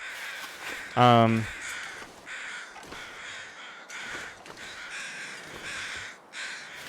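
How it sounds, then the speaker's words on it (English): A single harsh crow caw rings out in the snowy wilderness of the survival game The Long Dark, over faint wind, with someone talking quietly before and after. "The crows are out right now"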